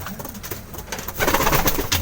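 Pigeons cooing close by, soft repeated coos with rustling and a louder stretch of calls toward the end, no voices.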